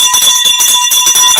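A new boxing ring bell clangs loudly at a fight event, its bright metallic ringing repeated in rapid, sustained strokes that fill the whole moment.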